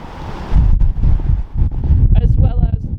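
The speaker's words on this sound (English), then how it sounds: "Oh my god, it's windy." Strong gusty wind buffets the microphone at a seaside railway station platform on the Bittern Line, a loud roaring rush that swells and dips.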